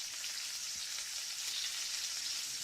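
Steady broadband sizzle like food frying in a hot pan, continuous and fairly quiet with an even texture and no voices.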